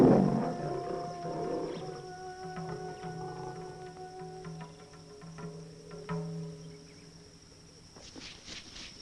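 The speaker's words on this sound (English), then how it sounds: "the best known of all the big cats is the lion, that legendary king of beasts" Lion roaring in the African wild, a deep growling roar at the start fading into a long drawn-out rumble over a bed of chirping insects and other wild animal calls, with a few sharp sounds near the end.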